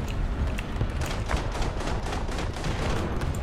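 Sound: cannon fire in the video game War Thunder

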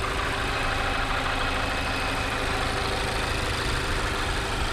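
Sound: Mazda 6 engine idling quietly

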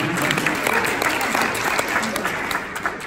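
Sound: audience applause

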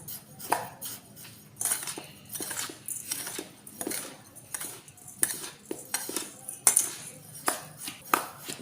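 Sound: mixing sugar, milk powder and salt in a bowl

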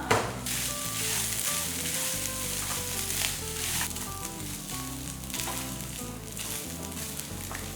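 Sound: food sizzling while being sautéed in a pan

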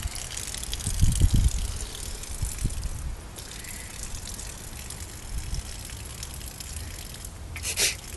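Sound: water spraying from a garden hose

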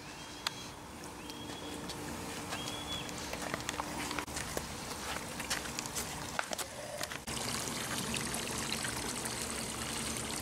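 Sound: pool hand vacuum draining water to waste

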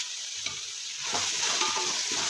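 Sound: stirring onions sautéing in a pan for chicken biryani

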